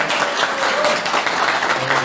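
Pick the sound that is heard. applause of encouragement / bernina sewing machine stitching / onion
applause of encouragement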